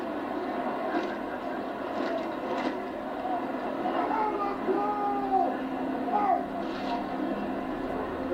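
A fast jet aircraft on its second flypast over a Canada Day festival in Ottawa, heard as a steady, distant roaring rumble that swells slightly midway, blended with outdoor crowd noise.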